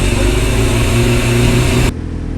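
A Willys Jeep with a rotary engine runs loud and close with a steady, rough rumble and slight swells as it revs. The sound drops abruptly just before the end.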